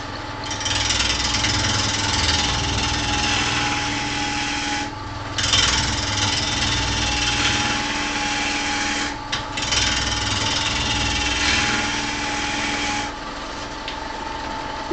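A gouge makes a push cut on a maple bowl spinning on a wood lathe, giving a steady, close, breathy hiss that runs continuously with a few brief dips where the tool eases off.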